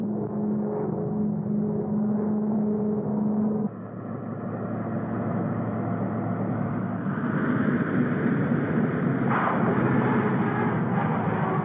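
Steady heavy roar of an airliner coming in to land at San Francisco, a loud continuous engine drone that holds throughout and swells slightly toward the end, with no voices.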